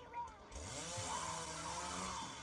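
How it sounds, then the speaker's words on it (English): A chainsaw runs in an animated pony cartoon, starting after a short voice and then droning steadily and fairly loud for about two seconds. "Chainsaws."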